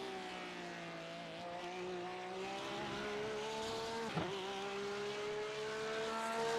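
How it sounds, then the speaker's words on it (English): A Porsche GT3 race car engine at Road America holds a steady, loud, droning note with rising and falling pitch as it passes, and a brief sharp blip midway, with no talk over it. "Look at that Porsche sound up there"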